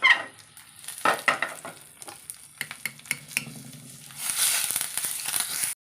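Curry leaves, chilli powder and turmeric crackle in hot oil for a tomato and cucumber curry, with scattered stirring scrapes and pops before the sizzle swells loud near the end.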